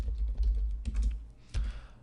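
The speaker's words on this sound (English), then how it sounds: "and then you can type." Brief, close typing on a computer keyboard, a few soft keystroke clicks grouped in quick bursts in a quiet room.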